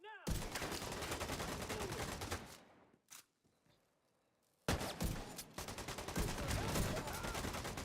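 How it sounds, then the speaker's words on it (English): A turret in The Division 2 fires on hostiles in loud, rapid automatic bursts, then cuts out for about two seconds before the heavy shooting resumes and runs to the end. "Stand up turret! Firing on them now!"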